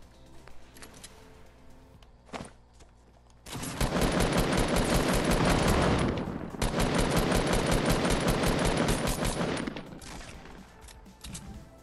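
Gunfire in the Fortnite video game: a few sharp isolated shots, then long loud sustained bursts of rapid fire with a brief gap in between, with no talking.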